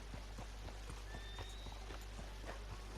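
Horse hooves clip-clop steadily in Red Dead Redemption 2, a regular trotting rhythm of close, distinct hoofbeats over a constant low background hum, with no talking.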